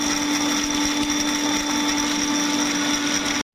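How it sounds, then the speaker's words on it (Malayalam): Mixer grinder jar crushing peanuts for an Oreo shake, a loud steady motor whine with gritty rattling that runs continuously, then cuts off abruptly at the end. "കപ്പലണ്ടി ഇവിടെ ക്രഷ് ചെയ്തിട്ടുണ്ട്."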